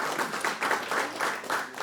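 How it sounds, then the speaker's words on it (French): Audience applause during a broadcast of a simulated racing event, a soft rolling wash of clapping from a crowd, steady and fairly faint with gentle swells. "bravo quand même, on peut vous applaudir"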